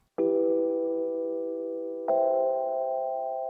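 Two simple chords played on a small piano: one struck and left ringing, then a second, slightly different chord about two seconds later. Both are clear, close and moderately quiet, with nothing else heard.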